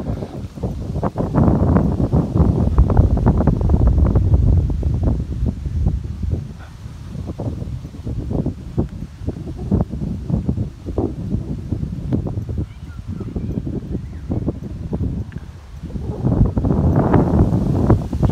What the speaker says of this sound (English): Sorry for the wind. Very windy.